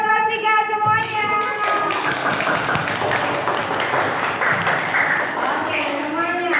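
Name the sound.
class 3 pupils clapping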